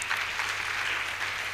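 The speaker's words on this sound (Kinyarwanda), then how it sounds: "Dukomere Imana amashyi." A congregation claps during a church service, giving a faint, brief, even patter of applause.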